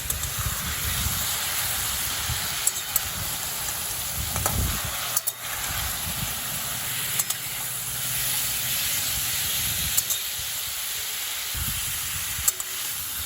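Vegetables dusted with ground turmeric fry on a high flame, a soft, steady hiss and sizzle broken by a few low scraping stirs and brief knocks.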